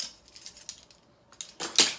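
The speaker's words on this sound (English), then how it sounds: "And then you want to whisk your dry ingredients together" Dry ingredients for vegan pancakes whisked in a bowl, light metallic clinks and scrapes in a loose, uneven rhythm, close by, with a brief lull before a few louder strokes at the end.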